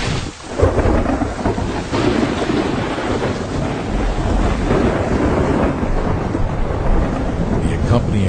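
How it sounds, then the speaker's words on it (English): A thunderstorm with steady heavy rain and rolling thunder, loud and continuous throughout, with a deep rumble building early and sustained roar of rain and wind. "hundreds of storms are occurring somewhere around the world"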